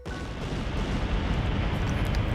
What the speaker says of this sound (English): the sound of a powerful explosion reaches all the way out to where we are, and the ground shakes a little